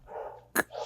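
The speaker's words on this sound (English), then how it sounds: "my dog in the background is because somebody passing in the road" A dog barks in the background at someone passing on the road, one short sharp bark between muffled low sounds, fairly faint and distant.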